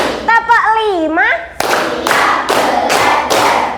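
Children clap in a counted classroom routine: a voice speaks first, then about four sharp, loud claps land in steady, evenly spaced succession.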